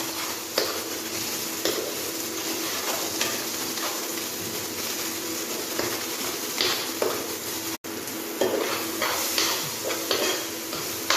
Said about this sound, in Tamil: பச்சை மிளகாய், கறிவேப்பிலை, புதினா இவற்றை அதனுடன் சேர்த்து அதையும் நன்றாக கிளற வேண்டும்.